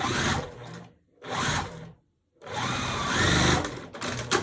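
A sewing machine stitches small pieces of a Tula Pink butterfly quilt's mini log cabin block, running in three short bursts separated by brief pauses, close and loud with no talk.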